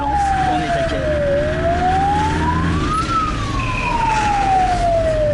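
An ambulance siren wails from inside the vehicle in Kathmandu, its slow rising and falling tone sweeping steadily over a loud, constant road rumble with no talk.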